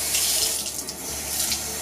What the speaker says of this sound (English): And now I'm just gonna rinse them.